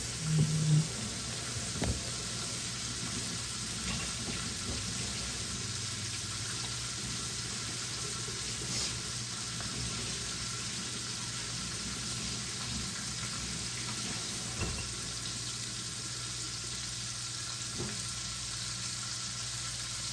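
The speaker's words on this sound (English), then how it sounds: "we're just gonna place it in the grease and we're gonna let it cook" A chuck roast sizzling in hot grease, a steady crackling fry held at an even level with occasional sharper pops, close by and uninterrupted.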